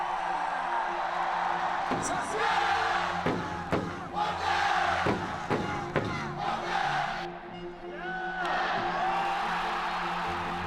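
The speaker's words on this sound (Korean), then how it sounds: "팬들의 함성에 답이라도 하듯" Baseball stadium crowd roaring and cheering for a home run by the slugger nicknamed the Home Run King, a dense, loud wall of voices swelling and surging with whoops throughout.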